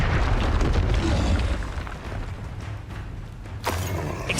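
Expelliarmus disarming spell cast during Hogwarts Legacy combat: a deep, continuous booming rumble that fades slightly midway, then a sharp, loud burst near the end followed by renewed crackling energy, with no voices.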